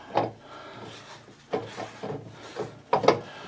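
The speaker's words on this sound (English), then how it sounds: "This is a piece of wood I'm turning right now." Wood being turned on a homemade lathe, irregular scraping and rubbing bursts recurring every half second or so, close and moderately loud with quiet gaps.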